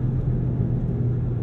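A 2022 Volkswagen Golf GTI engine, 241 horsepower, rumbles steadily at close range, a low continuous drone, as the car accelerates; no voices.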